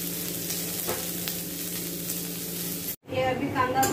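Onions frying in a pan for a prawn dish, a steady crackling sizzle that cuts off abruptly near the end, followed by a brief burst of stirring noise.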